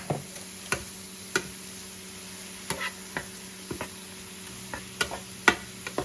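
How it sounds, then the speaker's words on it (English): A spoon stirs gluten-free stuffing mixed with soy sauce in a bowl, giving a series of soft, spaced scraping clicks and taps over a faint steady hum. "So I'm going to go ahead and mix that there."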